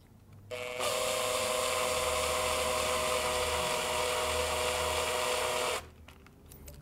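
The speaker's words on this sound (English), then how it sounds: "Just grab the drill and screw it in." A power drill drives a screw into parts of an RC Mad Torque 8x8 conversion. One steady, high whine runs for about five seconds, starting and stopping abruptly, loud and close.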